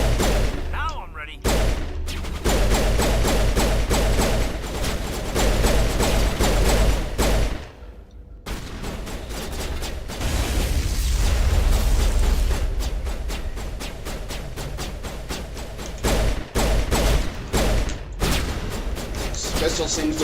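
Sustained, heavy gunfire from a pistol in Mass Effect rattles on in long, loud, continuous bursts, broken by a couple of brief pauses, with a voice speaking over the action.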